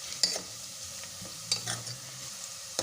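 A spoon is stirred slowly through onions frying in a pan, giving soft scrapes and a few clinks over a low, steady sizzle, with no talk.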